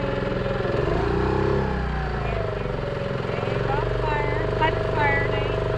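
A dinghy's outboard motor drones steadily and loudly close by on a beach excursion from an expedition cruise ship, with people talking over the running engine.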